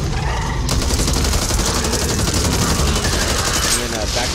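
Loud, continuous automatic gunfire in the zombie shooter Back 4 Blood, dense rapid bursts filling the whole stretch without pause.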